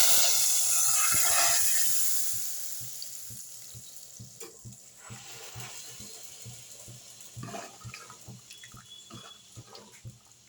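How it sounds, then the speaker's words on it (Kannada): Mustard seeds, cumin and curry leaves in hot oil are poured into jackfruit seed and ivy gourd sambar, with a loud burst of sizzling that fades over a couple of seconds into softer crackling, light stirring and clinks. "ನೋಡಿ ಈಗ ಒಗ್ಗರಣೆಯನ್ನು ಸಾರಕ್ಕೆ ಸೇರಿಸ್ತಾ ಇದ್ದೀನಿ"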